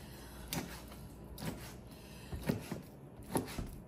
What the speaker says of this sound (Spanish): ahora voy a picar la carne para hacer las albóndigas